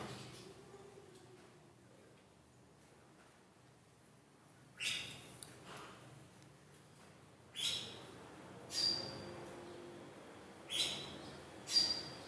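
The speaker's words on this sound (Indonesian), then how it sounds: "Iya bener tuh burung ruak-ruak." A white-breasted waterhen calls from an aviary in a series of sharp, repeated bursts spaced a second or two apart, fairly faint against quiet ambient hiss.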